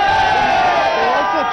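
A crowd cheers and shouts on the street outside Nagpur prison, a loud, dense mass of overlapping voices with rising and falling calls, sustained for the whole moment.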